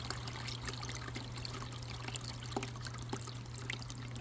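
Water streaming from a Milwaukee submersible pump that kicks on automatically, a steady, fairly faint trickling wash over a low constant motor hum.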